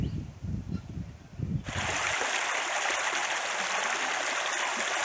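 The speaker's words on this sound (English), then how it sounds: "it rained a bit last night and the creek is up" A creek running high after overnight rain rushes with a steady broadband roar, close and continuous, preceded by a brief stretch of shuffling footsteps and outdoor movement before the water noise takes over.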